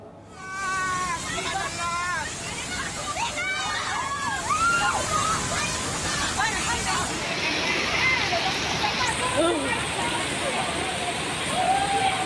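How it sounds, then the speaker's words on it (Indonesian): A flash flood from the overflowing Makawa river in Luwu, South Sulawesi, during a landslide disaster rushes and sloshes continuously as a broad churning roar. A voice talks over the water throughout. "Bencana tanah longsor dan banjir bandang akibat luapan sungai Makawa terekam video amatir warga"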